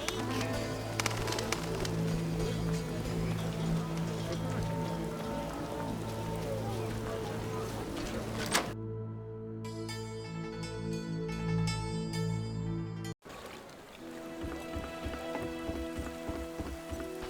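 Steady rain falls in The Witcher (PC), a dense, continuous hiss that runs loud throughout, with game music and ambient layers underneath and a brief cut near the end.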